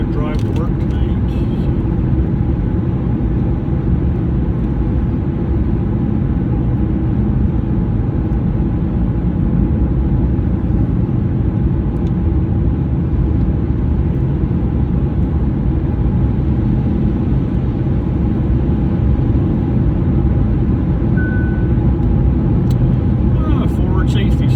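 A car driving on a winter road from Fredericton to Oromocto, New Brunswick, heard from inside as a steady low engine and road rumble that holds evenly throughout.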